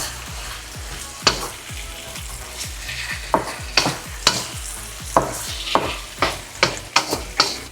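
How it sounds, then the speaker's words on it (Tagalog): Chicken returned to a pan of cooked tomato paste hisses steadily while a spoon stirs it in repeated, rhythmic scraping strokes, close and loud, with no voices. "kapag naluto na maigi yung tomato paste, ibalik na natin tong chicken. Halu-haluin lang natin maigi to guys."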